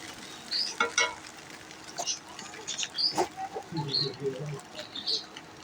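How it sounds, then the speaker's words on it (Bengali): Noodles mixed with spices get stirred in a pan, soft scraping and shuffling strokes with a few light clinks over a faint sizzle, close and fairly quiet. "এখন সুন্দর করে নাড়াচাড়া করে দিচ্ছি, যেন নুডলসের লগে মশলাগুলো মিশে যায়"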